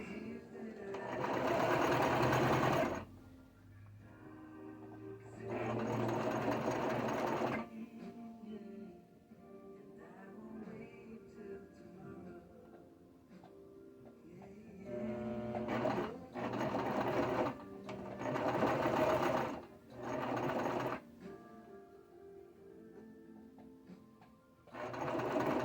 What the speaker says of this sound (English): See how this brother machine works.